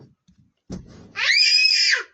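A child screams loudly and shrilly in one sustained cry lasting nearly a second, set among children playing with glitter glue at home, after a short, faint burst of voice.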